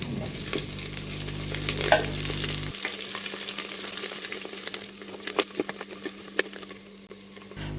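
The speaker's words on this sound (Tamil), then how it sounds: "முதல்ல கொத்தமல்லி இலை சேர்த்துக்குவோம். இப்போ லேசாக கிளறி விட்டுருவோம்." Coriander leaves being stirred into mutton biryani in a clay pot, with scraping and soft sizzling strokes close by; a steady low hum stops partway, leaving intermittent stirring clicks.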